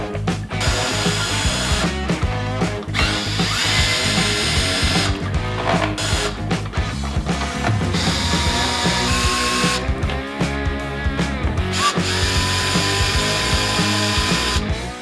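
A power tool whirs and ratchets loudly while removing T27 bolts from the outer fairing of a Harley Davidson Street Glide, running in repeated bursts with brief stops and restarts.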